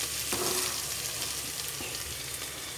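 Onions sauté in a pan for radish sambar, a loud, close, continuous sizzle with a brief stir or two and no talking.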